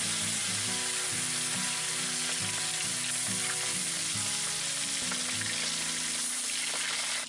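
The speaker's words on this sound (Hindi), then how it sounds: "अब इसे हम फ्राई करेंगे।" Pangas fish fries in mustard oil in a kadai, giving a steady, dense crackling sizzle close by, with a few low clunks of the pan along the way and no talk.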